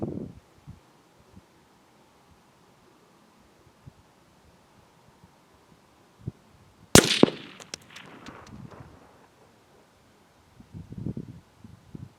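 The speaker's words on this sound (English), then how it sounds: "We'll be shooting at this 10-pound block of clay at a distance of 200 yards with the 17 Winchester Super Mag" A single sharp crack of a 17 Winchester Super Mag rifle firing a 20 grain bullet outdoors at a clay block 200 yards away, loud and abrupt with a brief ringing decay amid quiet surroundings and faint handling noises.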